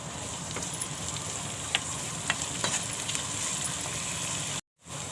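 Garlic, onion and curry leaves frying in a pan, a soft continuous sizzle with faint stirring scrapes and a few light taps, ending in a brief cutout of silence.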